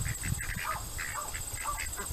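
Several ducks quack nearby in short, repeated nasal calls over a low outdoor background, fairly quiet.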